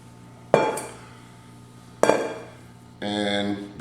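A large spoon scoops avocado flesh out of its peel in two sharp scraping knocks against the skin, followed by a brief clinking ring, close and alone.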